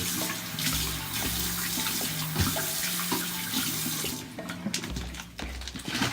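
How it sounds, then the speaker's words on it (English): Tap water runs steadily into a sink while a sports drink bottle is rinsed under it, a close, continuous gush that grows choppier toward the end as the flow is disturbed. "I'm gonna rinse up the bottle a little bit."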